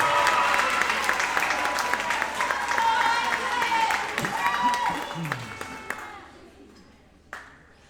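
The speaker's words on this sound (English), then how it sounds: "We give them a round of applause as well." Audience applause at a middle school band concert fills the room, dense and steady, then tapers off into scattered claps and quiet near the end.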